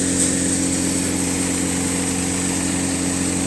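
Indofarm tractor engine running with a thresher attached, a loud, close, unbroken drone with steady low hum and mechanical whine throughout, no voices.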